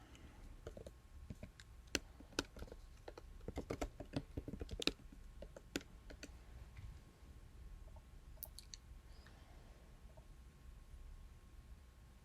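Quiet keystrokes on a computer keyboard come in a busy, uneven burst of clicks for several seconds, then thin out to a few scattered taps against a faint background hum.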